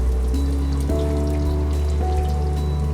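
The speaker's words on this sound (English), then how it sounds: "Our oil's ready to fry. We're gonna submerge in the oil," A breaded chicken cutlet is lowered into hot frying oil and sizzles with a dense, steady crackle close up, with a faint humming tone running beneath it.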